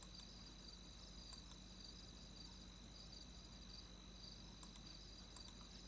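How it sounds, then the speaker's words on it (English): Crickets chirp steadily in the 1995 PC video game Shivers by Sierra On-Line, a continuous faint high trill over low background hiss with no talking. "Start to hear crickets as well."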